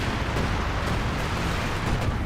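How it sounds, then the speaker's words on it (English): Airstrike explosions in Company of Heroes 2 merge into a dense, continuous roar of rumbling blasts, loud and close throughout with no gaps. "We've got another airstrike there"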